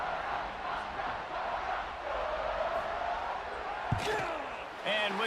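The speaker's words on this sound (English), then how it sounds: "this crowd is feeling themselves after that last drive" A stadium crowd in a college football video game roars steadily after a BYU touchdown, a broad, sustained wash of cheering with a sharp thud near the end.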